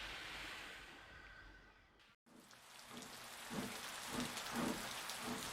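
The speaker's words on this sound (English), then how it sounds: "But it looks like the rain's starting." Rain starting to fall in an animated railway traction engine story, a soft hiss that cuts out briefly, then returns and thickens into steady rainfall with low rumbling thuds.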